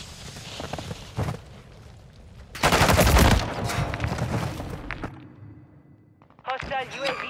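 Gunfire in the video game Call of Duty Modern Warfare III, with a loud burst of rapid shots in the middle, scattered thuds before it and a game voice calling out at the end.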